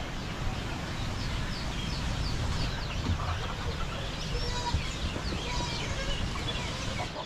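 Farm chickens cluck softly in scattered calls over a dense, steady background noise, somewhat distant and partly masked.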